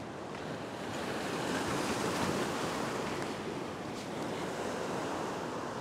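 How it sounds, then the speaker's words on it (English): Ocean surf crashing against a rocky shore after a big swell, a steady roaring wash of breaking waves with wind buffeting the microphone, loud and close throughout with no voices. "a little bit of a wave coming"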